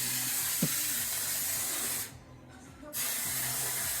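Undercoating sprays onto a Lexus RX 350 as a steady, close hiss, with a brief pause in the middle before the spraying resumes.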